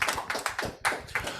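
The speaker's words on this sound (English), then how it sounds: "applause" A small audience claps after a talk on the perils of screenwriting, a brief patter of hand claps in an uneven rhythm, fairly close, with no voices.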